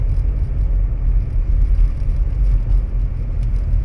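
A Subaru drives on an unplowed snowy road across a bridge over the Arkansas River during a southern US winter storm, giving a steady close engine rumble and tire whir with no talk.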